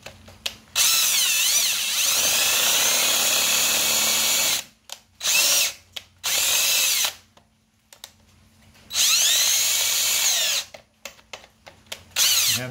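A power drill runs into the metal of a 1950 Farmall Cub tractor's identification plate at an angle in long, loud high-pitched whining stretches, stopping and restarting several times with brief bursts between.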